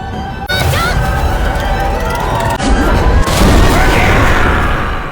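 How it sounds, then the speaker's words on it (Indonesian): A magic explosion spell goes off in an anime battle against undead, a loud booming blast with a crashing burst near the start and rolling rumbling debris that fills the whole stretch. "Dulan ternyata masih bisa bertahan dari sihir ledakan Megumi."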